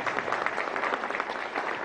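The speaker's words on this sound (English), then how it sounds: "Let's give him an applause." An audience at an agribusiness investment forum applauds in a continuous, even roar of clapping from many hands, steady and moderately loud throughout.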